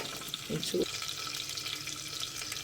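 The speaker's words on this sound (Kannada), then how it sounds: "ಈರುಳ್ಳಿ ಫ್ರೈ ಆಗ್ತಾಯಿದೆ" Onions frying in a pan for Karnataka-style kermeen (fish) curry, a steady broadband sizzle throughout with a couple of brief low clatters near the start.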